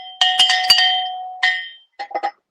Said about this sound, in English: We're going to ring this bell for Cece and for Judy and for everyone else